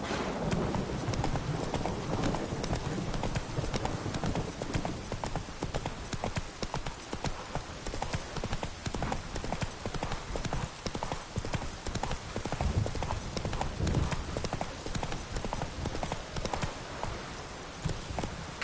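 Hooves of Roach, the horse in The Witcher 3 video game, pound in a steady galloping clip-clop throughout, loud and close, with a faint whinny in places.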